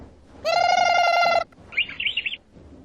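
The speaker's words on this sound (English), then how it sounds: "Canary." A canary sings a bright, sustained whistle, then a quick, fluttering warble, close and loud against a quiet background.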